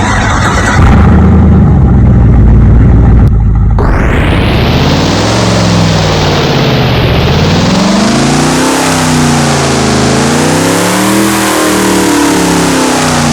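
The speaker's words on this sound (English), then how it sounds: "for our next car we got the 2009 Hummer H2. Pretty good detail. Let's listen to the startup" A 2009 Hummer H2 in the Roblox game Driving Empire cranks, fires and settles into a loud, deep idle, then revs up and down in several rising and falling swells.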